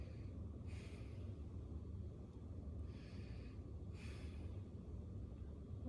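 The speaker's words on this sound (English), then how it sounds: "So I will just tell you to take deep breaths." Patient taking slow deep breaths during a lung exam, several soft airy inhalations and exhalations in an even rhythm, faint and close over a low background rumble.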